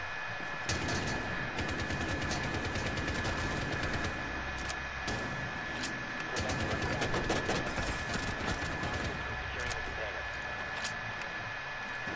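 Gunfire in a shooter video game, with dense bursts of shots crackling steadily throughout amid game noise, while voices talk over it.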